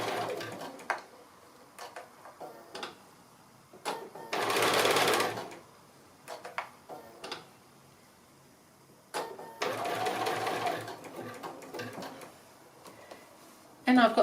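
A sewing machine zigzag stitches across a coiled fabric strip, whirring in two short bursts between quieter pauses, with a person talking throughout.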